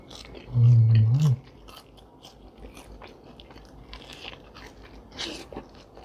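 Crispy-crusted salt bread with a soft inside is bitten into with one loud close crunch near the start, followed by quieter chewing and faint rustles.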